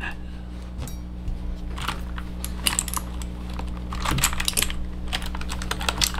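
Steady typing on a Rapoo V500 Pro full-size budget wired mechanical keyboard, with continuous close key clicks and clacks over a constant low electrical hum.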